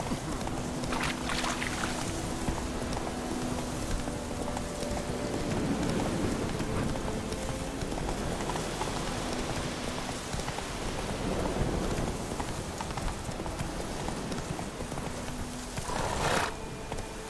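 Roach, a horse in The Witcher 3, clip-clops along under a dense wash of wet, watery ambience, the hoofbeats steady but partly masked, with a short neigh-like burst near the end.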